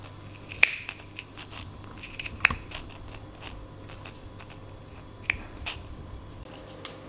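Scissors snip close to the stitching of a work dress while sewing front and back panels, giving three or four sharp, isolated clicks spread over a quiet room with a low steady hum.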